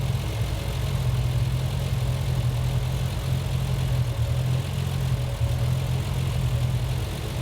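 A Triumph TR6 engine converted from carburettors to fuel injection idles steadily and loudly, with a continuous low rumble throughout and no speech.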